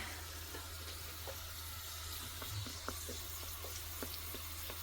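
Quiet, steady sizzling of doughnuts frying in oil, with small crackles and pops scattered over a low constant hum.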